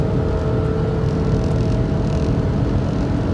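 Cruising at 160 km/h, a Fiat Marea 1.6 16V gives a steady, loud cabin drone of engine hum, tyre and wind noise, continuous and unbroken with no one talking.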